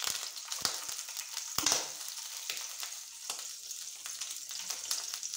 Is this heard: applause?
no